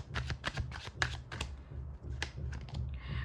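A tarot deck is shuffled and cards are drawn: a quick run of dry, papery flicks and taps, close and fairly loud, over a low steady hum, with no talking.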